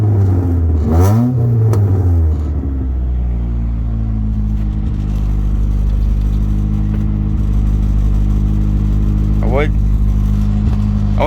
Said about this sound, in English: now you can hear the exhaust leak from the back